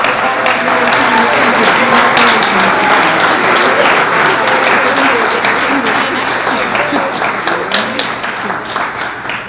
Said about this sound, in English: once again, a big round of applause for all of our new